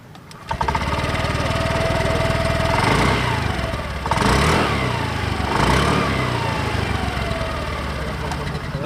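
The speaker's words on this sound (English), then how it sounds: "let's see how the exhaust note sounds" A Honda Activa 6G BS6 scooter engine idles steadily close by, with the exhaust swelling in short revs around the middle before settling back to a low, even putter.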